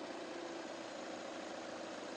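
A car engine idles steadily after being switched on during a fitting of Philips LED daytime running lights, a continuous even hum with no talk.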